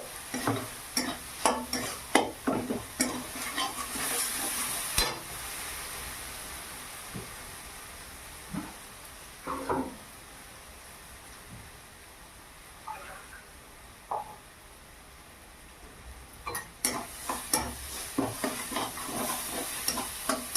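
Ground turmeric, cumin and garam masala are sautéed and stirred in a pan for a spinach dish, with repeated scraping strokes and a soft sizzle that come in bursts and pause between rounds of stirring.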